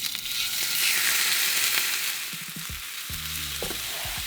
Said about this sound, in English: now we get to the sizzling part